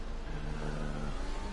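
Racing car engines drone steadily in an F1 video game during a race in Austria, a continuous close mechanical hum with a rising rev tone partway through, no talking.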